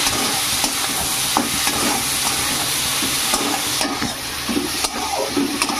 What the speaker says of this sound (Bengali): তাহলে মশলাটা তাড়াতাড়ি ভাজা হবে